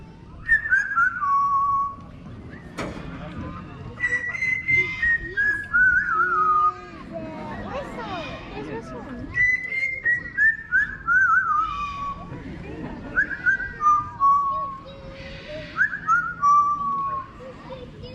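A parrot at African Lion Safari's Parrot Paradise whistles a meandering tune in repeated sliding phrases, with short pauses between them and some background chatter and noise.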